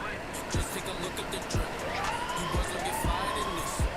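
An ambulance siren sounds during a road escort from Puskesmas Indralaya, a rising and sweeping wail over traffic noise with repeated low thumps.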